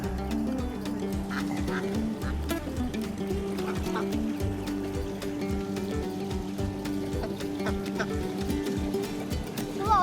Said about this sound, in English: there's a daddy duck with his ducklings and they're swimming through the pond